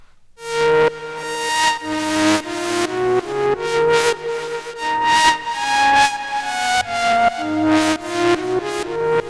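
A bright synthesizer lead from the DIVA synth plays a melodic phrase of distinct sustained notes, rich in harmonics, loud and close with no voices.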